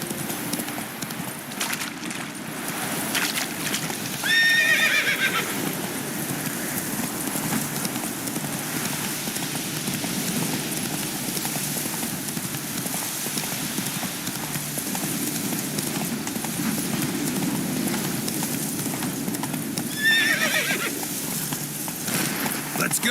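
A horse in The Witcher 3 galloping with steady rhythmic hoofbeats throughout, giving two short whinnies along the way, while someone talks over the riding.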